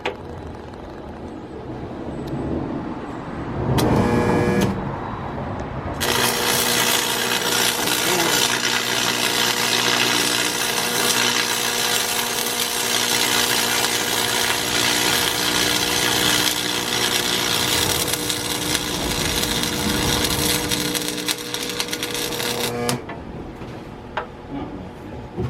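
An angle grinder grinds down weld metal in a long continuous run of roughly seventeen seconds, loud and close, after a brief earlier burst of tool noise.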